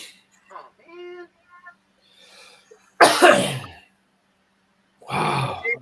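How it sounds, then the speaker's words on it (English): A man coughs hard in two loud bursts after swallowing something wrong, with short vocal grunts and murmurs between them. "I'm coughing for half an hour"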